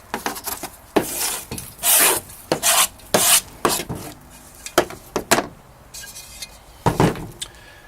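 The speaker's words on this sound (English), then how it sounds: "Go scrape this into this pot." Orchid potting mix being scraped into a pot while repotting Catasetinae orchids: close, repeated rasping scrapes in short uneven bursts, with no talking.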